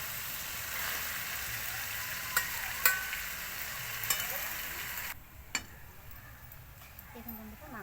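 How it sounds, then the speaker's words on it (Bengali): Potatoes and pre-fried chicken pieces are stir-fried in oil in a pan for a Bengali chicken curry, a soft sizzle with a few sharp scraping stirs. The sizzle drops noticeably partway through, and a voice is faintly present. "আলুটা এবার আমি মাংসটাকে ভেজে রেখেছিলাম এর সঙ্গে দিয়ে একটু কষে নেব।"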